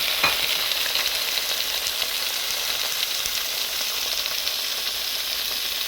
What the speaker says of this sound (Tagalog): mainit na ng konti yung oil. Ilalagay na natin yung liver natin.